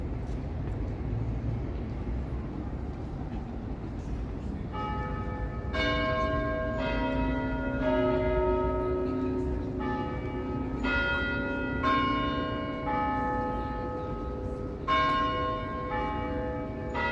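Church bells of St. James Cathedral in Toronto chime the hour on a busy, humid Saturday evening, a series of resonant bell strikes ringing out repeatedly over steady city traffic and street noise.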